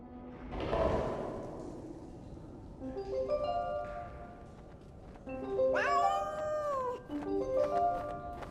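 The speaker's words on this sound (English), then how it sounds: "Why is that cat meowing?" A cat trapped underground meows in the video game 11-11: Memories Retold, giving several drawn-out, wavering cries with a heavy thud near the start.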